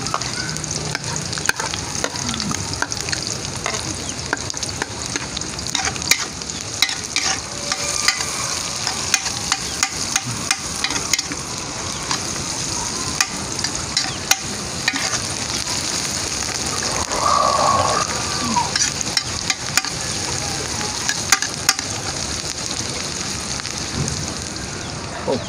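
Onion, garlic and ginger fry in a pan with a dense, continuous sizzle like heavy rain, broken by frequent scraping and clicking stirs close by, with no talking.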